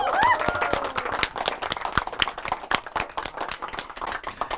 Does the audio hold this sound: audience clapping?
yes